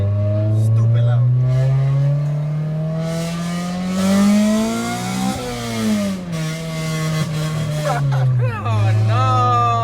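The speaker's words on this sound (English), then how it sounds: "It sounds like a Honda with open headers" A Honda engine with open headers revving hard, its loud pitch climbing and falling through repeated pulls, with people talking over it.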